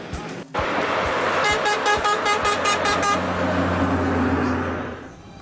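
Passing trucks on a road in Persia blast their horns in a rapid series of loud, repeated toots over about two seconds, backed by close engine and traffic rumble that slowly fades.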